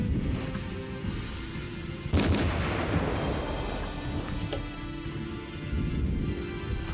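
Naval gunfire from World of Warships: a sharp, loud shell blast strikes near the two-second mark and decays into rumbling, followed by further lighter impacts under a steady engine drone.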